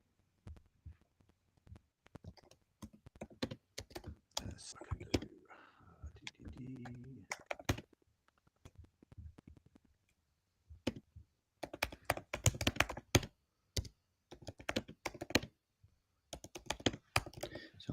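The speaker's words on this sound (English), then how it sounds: "So it's me just typing a reply back to." Rapid clicking of computer keys in bursts, close by, with a voice talking at moments between the typing.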